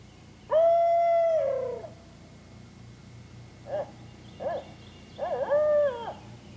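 A hunter's voice imitating an owl to locate turkeys in the morning: one long, loud, drawn-out hoot, a short pause, then two brief hoots and a final wavering hoot, all close and clear.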